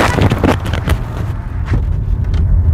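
Inside a 2025 Hyundai Verna on the move, engine hum and road rumble fill the cabin, steady and fairly loud, with wind rush and no speech.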